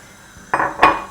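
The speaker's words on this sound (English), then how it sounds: "I have got a pan and some granulated sugar. I have got golden granulated at home, so that's what I'm using. That goes in." Golden granulated sugar tips into a pan in a home kitchen: two short, close clattering bursts of grains and metal, sharp and brief, with no speech.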